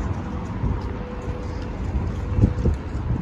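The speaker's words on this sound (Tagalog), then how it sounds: "Lakas ng hangin." Steady, blustery wind outdoors in Sharjah rumbles low and roars continuously, with a couple of stronger gusts buffeting near the end.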